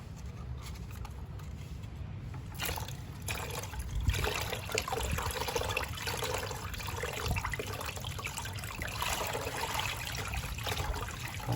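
Water rinsing mealybugs off a Sarracenia pitcher plant: a steady, close trickle and splash of running water continuing throughout, with no talk.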